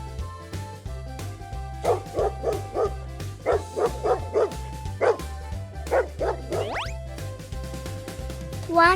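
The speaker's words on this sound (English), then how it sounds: "One dog." A dog barks and yips in short repeated bursts, close and clear, over a steady, bouncy music beat in a children's farm-animal counting cartoon.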